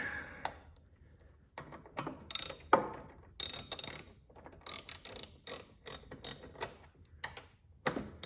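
Ratchet clicking in short bursts while bolts on a Toro Power Clear 621 QZE snowblower carburetor are snugged down, rapid pawl ticks coming in several separate runs with pauses between, close and clear with no talk.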